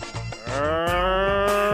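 On a TV chat show, a person imitates a cow: one loud, close, drawn-out low moo that swells and holds steady, heard alone without other talk.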